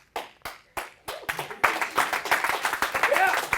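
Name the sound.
students clapping in a lecture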